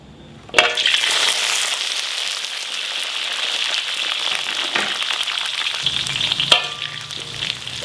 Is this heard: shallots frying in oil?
yes